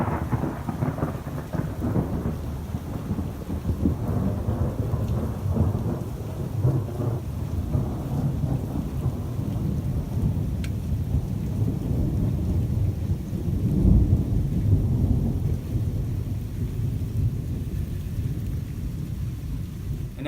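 A summer morning thunderstorm brings steady, heavy rain and a continuous low rumble of thunder that swells around the middle, with no voices.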